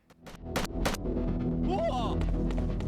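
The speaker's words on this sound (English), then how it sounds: "I got really distracted because the gunfire sound just broke there" Gunfire in the video game Made Man bursts in sharp cracks, then glitches into a sustained, droning buzz with warbling tones, as if the sound is stuck and looping.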